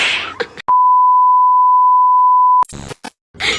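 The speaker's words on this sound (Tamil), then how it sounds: "மச்சான், என் ஆளு கால் பண்றா." A single loud, steady electronic tone holds for about two seconds as a phone signals an incoming call, with brief bursts of other sound before and after it.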